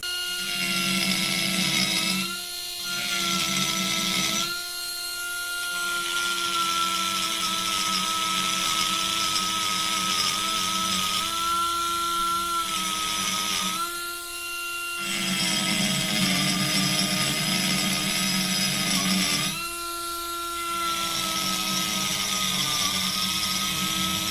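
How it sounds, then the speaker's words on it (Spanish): A rotary tool fitted with a fine burr carves a stone sculpture, its high whine running close and steady in long bursts, broken by short pauses and shifts in pitch as the bit works the stone. "ahora voy a poner una fresa más fina para empezar por aquí."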